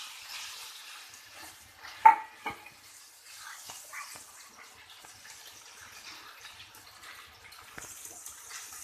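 Pasta being stirred gently in a pot of salted water, a soft watery swishing with a couple of brief clinks near the start, then quiet continued stirring; no voices.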